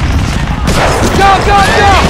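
Covering gunfire from the video game Medal of Honor: Frontline, a dense fusillade of shots rattling steadily under game noise, with voices calling out over the battle.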